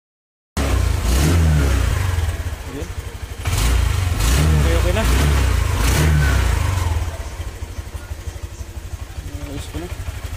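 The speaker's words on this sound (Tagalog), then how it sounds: "papaanda rin na natin kung okay ba talaga ang tunog" A motorcycle engine, just repaired after a typhoon flood, revving in loud bursts and then settling to a steady run, with a few words of speech over it.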